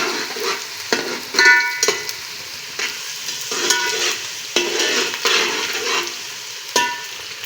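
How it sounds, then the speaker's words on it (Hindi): Onions browning in ghee in a pan for chicken biryani, a steady close sizzle with repeated scraping stirs and utensil clinks at irregular intervals, no talk. "मैं इसको घी में पकाऊंगी। और ये मैं थोड़ी सी प्याज ब्राउन कर लूँगी"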